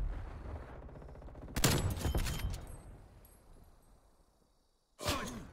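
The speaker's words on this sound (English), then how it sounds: "Enemy sniper shooting." Sniper gunfire from an enemy in Call of Duty: Black Ops Cold War on the Nuketown map, heard as a loud sharp report with a lingering tail, then a second loud crack near the end after a quiet gap.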